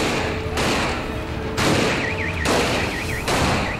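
Gunfire rings out during a police raid on hillside houses, dense bursts of shots in repeated loud volleys over about four seconds, with a wavering siren-like tone in the background.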